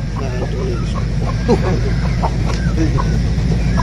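A native country rooster clucks in short, soft bursts against a low rumbling background, with faint voices nearby.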